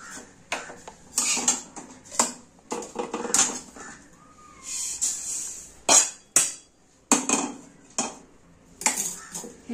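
A spoon scrapes roasted sesame seeds out of a pan while making sesame brittle, giving repeated metallic clinks and scrapes in short, uneven bursts at close range.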